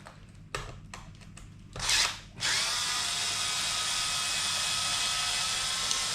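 A power drill zips out the bash bar screws on an Arrma Outcast 4S RC car: a few short bursts of the motor, then a steady high whine held for several seconds, close and clear.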